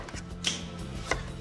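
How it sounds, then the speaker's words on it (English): A knife chops spring onions on a board in a home kitchen, with two sharp, separate strikes heard close up over a low steady hum. "Chop. Spring onions through."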